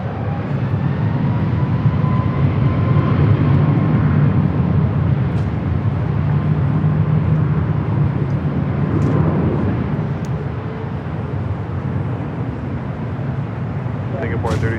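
Airliner taking off from runway 24 left at LAX, a loud sustained jet engine roar that swells and slowly fades, with brief faint tower radio chatter over it.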